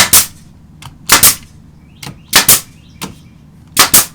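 Pneumatic nail gun firing nails into a replacement exterior door jamb during rotted-jamb repair: sharp, loud, close shots arriving singly and in quick pairs, roughly six bursts separated by short pauses, with no talking.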